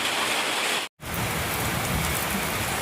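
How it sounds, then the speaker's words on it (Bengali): Heavy rain pours steadily as a dense, even hiss of drops on a rooftop, with a brief sharp dropout near the start before the downpour resumes unbroken. "অনেকটাই বৃষ্টি পড়ছে।"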